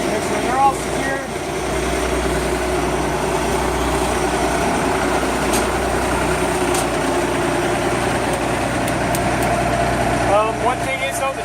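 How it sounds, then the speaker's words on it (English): A truck engine idles steadily throughout a cab and hood inspection, a continuous low rumble with no other sounds on top. "I'm going to shut the vehicle off with the noise."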